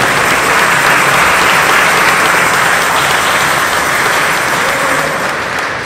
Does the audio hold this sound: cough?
no